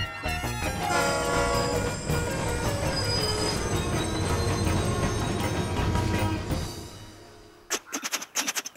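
A train rolls past with a loud, continuous rumble and screeching wheels on the rails, then clattering wagons pass in rhythmic bursts as the noise fades.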